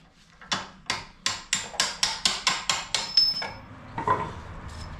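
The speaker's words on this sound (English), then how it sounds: "And we can just punch the bolt through." A hammer drives a bolt out of a badly rusted BMW E36 328i coupe rear subframe: about ten sharp, ringing metallic blows in a quick even rhythm, loud and close, followed by a few softer knocks.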